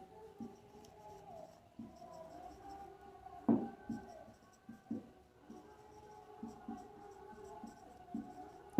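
Pen writing an English sentence on paper, quiet scratchy strokes in short bursts with small taps and pauses, close and faint over a low hum.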